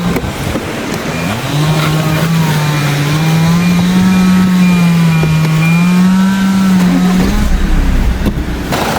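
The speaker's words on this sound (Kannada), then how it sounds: "ಇದ್ರದ್ದು ಒಂದ್ಸಲ ರೇವ್ ತೋರಿಸ್ತೀನಿ ನಿಮ್ಗೆ ಹೆಂಗಾಗುತ್ತಂತ" Diesel engine of a Tata Safari Black Edition revved hard, rising into a loud, sustained drone held for several seconds before dropping off abruptly, close by.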